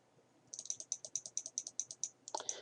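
A computer keyboard is typed on in a quick, even run of about a dozen close, crisp key clicks, ending in a slightly heavier cluster of strokes.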